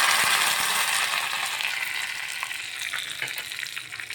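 Dry red chillies and curry leaves spit and crackle in hot oil, a loud dense sizzle that eases slightly over a few seconds, with scattered sharp pops.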